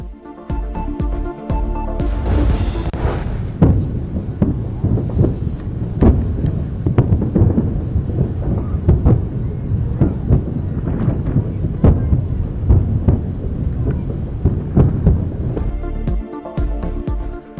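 Fireworks burst over New York during Independence Day celebrations marking the 250th anniversary, a dense run of loud booming explosions and crackles one after another, with rumbling echoes filling the air throughout.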